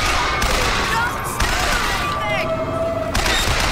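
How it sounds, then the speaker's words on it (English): Rapid gunfire pours in on the player during a Bioshock Infinite fight, dense shots and booms layered under game noise and speech throughout. "Someone shooting at me?"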